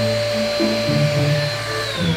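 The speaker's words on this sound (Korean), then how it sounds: "그 다음 제보는 청소기인데요, 청소기도 바로 한번 보여드리도록 하겠습니다." A household vacuum cleaner runs steadily close by, a loud constant whirring drone with a high whine and slight pitch wobble throughout, with no voices.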